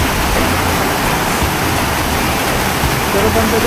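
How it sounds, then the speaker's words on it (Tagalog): Strong river current: rushing water roars steadily and loudly, a dense, unbroken wash of turbulent flow. "Kasi lakas ng current, oh."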